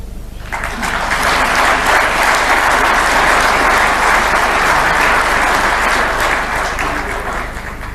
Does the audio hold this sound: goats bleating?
no